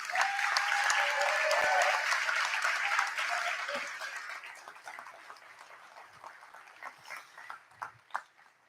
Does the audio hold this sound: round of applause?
yes